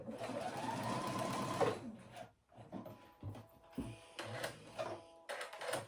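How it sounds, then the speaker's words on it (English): A sewing machine runs steadily while stitching a jacket seam, a close continuous mechanical whir that stops, then restarts in short bursts of a few stitches with small knocks and handling noises between. "I'm just gonna do a couple stitches at the end so that it doesn't come open and mess up my sewing"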